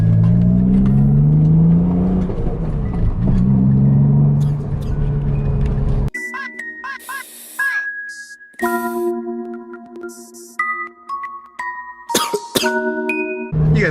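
A BMW Z3 M Coupe's engine revs from inside the cabin, first a loud rising and falling roar, then sharper separate blips with tonal whine and sputtering between them.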